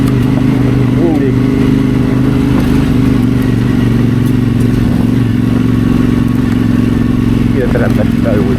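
Motorcycle engine droning steadily on an Alpine mountain road during a solo tour, loud and close with constant wind rush and occasional clatter, running throughout.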